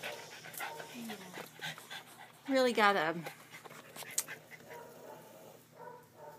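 A dog with punctured sinuses pants and wheezes noisily, with a rough, strained burst of breathing in the middle, while a person talks nearby.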